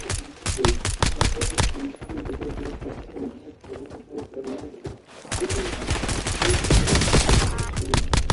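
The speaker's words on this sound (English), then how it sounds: "Whoever's griefing, I'm gonna shoot them." Video-game gunfire: dense rapid bursts of automatic shots, loud and close, with a short lull before heavy firing picks up again; one voice speaks faintly underneath.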